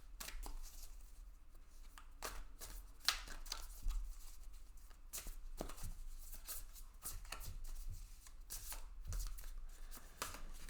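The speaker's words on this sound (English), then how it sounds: "I'm going to shuffle again." A deck of tarot cards is shuffled in irregular soft riffles and taps, close by and fairly quiet, continuing steadily for about ten seconds.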